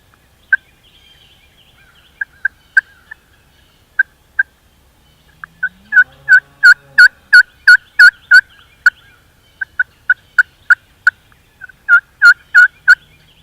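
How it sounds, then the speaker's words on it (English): A wild turkey gobbles repeatedly in rapid, rattling bursts, with sharp isolated calls between them, clear against a quiet background. "that turkey was gobbling and that hen was yelping right down here in this bottom"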